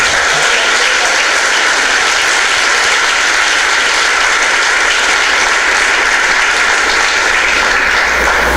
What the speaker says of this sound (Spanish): Dale un aplauso al Señor para que no te duela